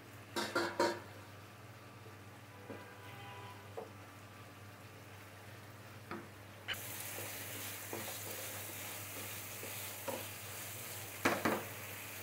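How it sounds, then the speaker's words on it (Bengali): Hilsa fish stir-fried in spice paste in a pan, a low sizzle with scattered scraping stirs and utensil knocks, rising to a brighter, louder frying hiss partway through, close by and without speech. "মাছটা কষানো হয়ে গেছে"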